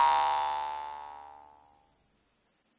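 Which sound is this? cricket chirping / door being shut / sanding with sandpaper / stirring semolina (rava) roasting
cricket chirping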